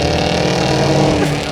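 Ford Mustang engine rumbling just ahead, a steady loud roar heard from inside a 2025 Cadillac Escalade V under hard acceleration, continuous for a second and a half without talk.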